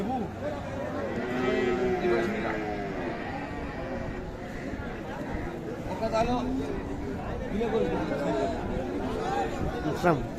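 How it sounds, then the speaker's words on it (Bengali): Cattle moo at a Bangladeshi livestock farm selling Sahiwal bulls, several long lowing calls close by over steady crowd chatter and people talking throughout. "কতগুলা গরু আছে আসাদ ভাই"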